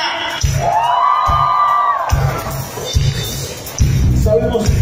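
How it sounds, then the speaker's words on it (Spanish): At a church concert a crowd of young people lets out a loud, sustained shout and whoop as a victory cry, with rhythmic thumping beneath and more cheering bursting up near the end. "Quiero ver un grito de victoria."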